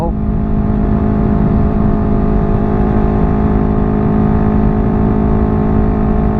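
Two motorcycles, a Yamaha XMAX 300 scooter and a Honda CBR250RR sport bike, accelerate hard in a side-by-side test, giving a loud, steady engine drone with tonal whine that holds for several seconds without break.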